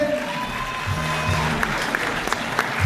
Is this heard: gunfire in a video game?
no